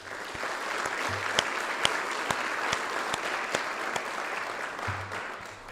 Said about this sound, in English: Let's give a round of applause for Mason and that effort.